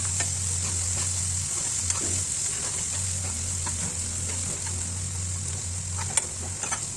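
Ginger garlic paste fries in a pan and is stirred throughout, giving a soft, steady sizzle with light scraping clicks, a low hum underneath and no talk.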